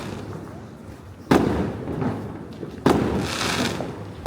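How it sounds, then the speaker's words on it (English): Fireworks going off around town in Iceland, two sharp loud bangs about a second and a half apart, each followed by a crackling, rumbling tail against an outdoor background. "One is literally just lighting up fireworks in their own house and areas around town."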